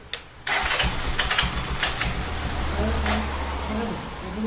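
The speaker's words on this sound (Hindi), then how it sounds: "देखिए, बाइक स्टार्ट हो चुकी है।" A Honda CT125 motorcycle engine with a carburetor turns over and catches, then settles into a steady, close idle with low rumbling throughout.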